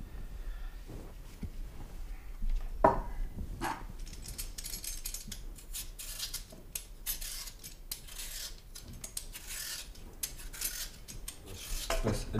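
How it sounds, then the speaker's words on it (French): Potatoes are peeled for a vegetable soup, giving faint, steady scraping and light clicking strokes close by with no talking. "on va commencer par l'épluchage des pommes de terre"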